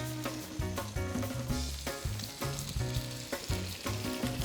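Two pieces of fish sizzle and fry in a hot pan, a loud, steady crackling with bursts of spattering oil, heard close up and alone without talk.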